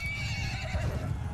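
A horse neighs loudly in a medieval battle in Mount & Blade II: Bannerlord, one long close whinny alone over a low rumble.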